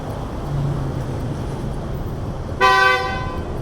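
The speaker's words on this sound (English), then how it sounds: "A little bit of a traffic snarl this morning. With the horn honking going on." A car horn blares once, a short bright toot rising over the steady rumble of congested morning rush-hour traffic on a city street, with a faint low engine drone earlier.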